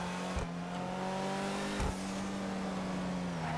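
A steady in-game engine drone from the Ocelot Ardent, a Lotus Esprit-style classic sports car, cruising in GTA 5 Online, holding an even note with two brief thumps, loud and close.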